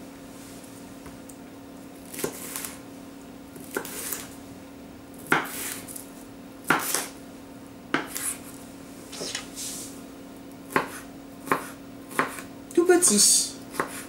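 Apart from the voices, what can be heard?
cutting bell peppers into brunoise with a knife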